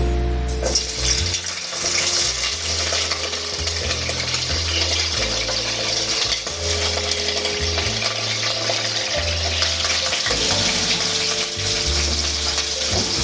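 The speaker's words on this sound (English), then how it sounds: "I'm going to saute this a bit before the calalo is added." Natural spices and okra sauté in a pan as seasoning for steamed callaloo with salt fish, giving a steady, close sizzle and frying hiss that runs continuously without talk, over a low, droning background.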